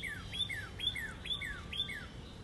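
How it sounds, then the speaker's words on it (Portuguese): Small bird giving a quick series of about eight thin, downward-sweeping chirps, fairly faint, in a quiet outdoor setting with a soft steady background hiss. "Tem um pássaro vermelho ali."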